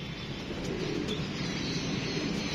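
A female pigeon caught at night cooing softly and continuously, close by, with a steady low murmur and faint chirps over a constant background hiss.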